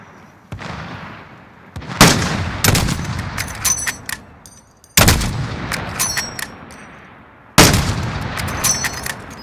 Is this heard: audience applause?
no